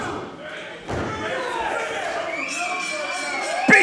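A wrestling body slam in the ring at an underground wrestling event, a single heavy thud against the mat near the start and another impact at the end, with commentary and crowd noise throughout.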